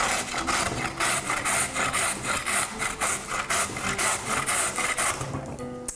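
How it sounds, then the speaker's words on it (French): In a home kitchen, a washed, unpeeled carrot is rubbed against a grater in quick, even strokes, a close rasping scrape repeated steadily throughout, with no voices. "cette carotte-là que je suis en train de râper"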